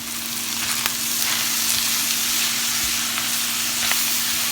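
Corn kernels frying in bacon fat in a pan, a constant close sizzle with scattered small pops and a low steady hum beneath.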